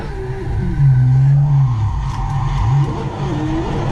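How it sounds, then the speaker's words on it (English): A 1000hp Holden Commodore fitted with a Ferrari engine braking downhill, loud close engine drone with a rising and falling pitch as it slows, tires faintly squealing. "That was really smooth, like that was a perfect, like, foot brake."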